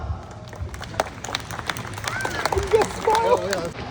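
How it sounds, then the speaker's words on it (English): Scattered audience clapping at a car show, with sharp claps rising and falling over murmuring crowd voices and outdoor chatter. "can we get a round of applause?"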